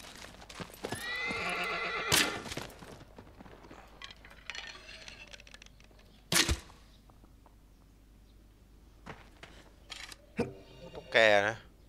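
Horse neighs and whinnies in the game Shadow of the Colossus, several sharp loud cries spaced apart with clip-clop hoof sounds and clinks between, near and clear; a person talks over parts of it.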